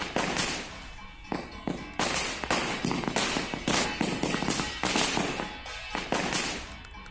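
Firecrackers set off in fields to scare away a locust swarm: a loud, rapid string of sharp cracking bangs in irregular bursts, with short gaps between volleys.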